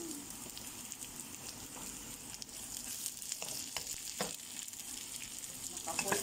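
Ginger, garlic and onion sautéing together in a pan for tinola with bitter gourd, giving a steady close-up sizzle with a few sharper crackles and stirring scrapes throughout, no voices.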